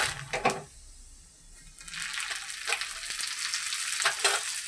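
Mustard and cumin seeds crackle and sizzle in hot oil for a dal tempering, a brief burst followed by a steady loud frying hiss with sharp pops.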